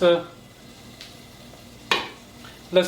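A spoon stirs jungli laal maas, a Rajasthani red meat dish, in a cooking pot, giving a few scraping clinks against the metal over a faint sizzle, with quiet stretches between strokes.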